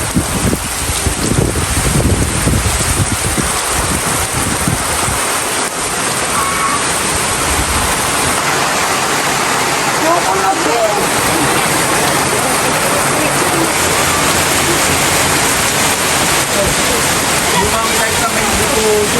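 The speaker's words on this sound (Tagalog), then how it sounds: "At grabe po ngayon kalakas ng ulan." A dense, continuous roar of heavy rain pours steadily throughout, loud and close, with a few muffled sounds early on, heard from inside a hut at a fish pond.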